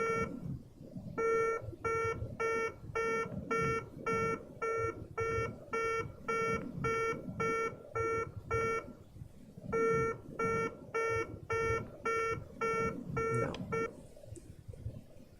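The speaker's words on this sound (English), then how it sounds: "this beeping sound, I think it's the warning that the glide slope now comes closer" Rapid, evenly spaced electronic glide slope warning beeps in a FlightGear Concorde cockpit repeat in bursts over a low engine-like hum, pausing briefly before resuming.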